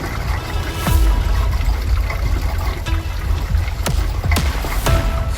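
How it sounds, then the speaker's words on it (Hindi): Water rushing steadily near a mountain water mill that grinds grain, a continuous close wash of flowing water with a few faint clicks and knocks mixed in. "पानी बहने के साथ एक आवाज सुनाई दे रही थी, लेकिन बहुत धीमी थी"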